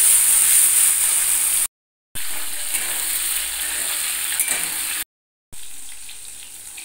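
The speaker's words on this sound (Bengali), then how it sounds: "চিংড়ি মাছগুলো সব ভাজা হয়ে গেছে" Prawns fry in mustard oil in a kadai, a steady close sizzle and crackle with a few faint clinks, broken by two brief silent gaps.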